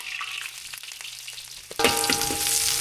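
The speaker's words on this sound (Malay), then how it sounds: "Tumis biar bawang putih ni merah sikit dah" Garlic sautés in hot oil for a clear soup with egg: quiet clinks and faint frying at first, then a sudden loud burst of sizzling as the garlic hits the oil, continuing strongly to the end with a few utensil clicks.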